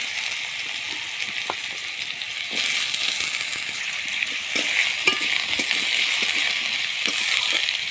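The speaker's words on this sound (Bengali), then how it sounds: "এবার তেলটা গরম হয়ে গেছে, এবার আমি আলুটা দিয়ে দিচ্ছি কড়াইতে।" Potatoes fry in hot mustard oil in a wok, a continuous close sizzle that swells louder partway through, dotted with small scraping and clicking taps.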